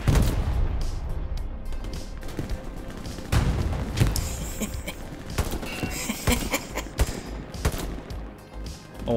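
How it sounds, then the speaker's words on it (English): Dense gunfire crackles nonstop in the video game Hell Let Loose, with rapid rifle and machine-gun bursts broken by heavy artillery booms, all loud and chaotic. "Oh, that was an excellent artillery strike."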